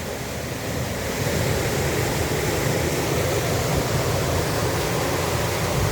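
A river swollen and overflowing from typhoon rain at Barangay Nagba, Tigbauan, Iloilo rushes in a loud, steady, unbroken roar of churning water close by.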